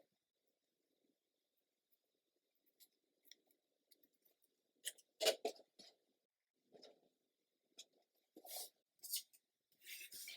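Scissors snip fabric for earrings beside a Cricut Maker cutting machine, a few quiet, scattered cuts early on, then a cluster of sharper, louder snips toward the end, with no talk.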